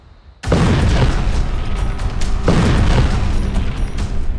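A nearly 1,000 kg aircraft-launched bomb that scatters thousands of bomblets goes off with a sudden, loud blast. A long, dense roaring rumble follows, with a second surge of blasting partway through.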